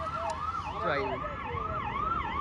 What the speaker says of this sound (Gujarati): ભાઈ જો પોલીસની ગાડી આવી ગયો